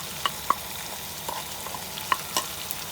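Ground coriander, chilli powder, turmeric and salt roast in a pan for Rajasthani besan gatta, a close, steady sizzle with scattered scraping stirs and light spoon taps.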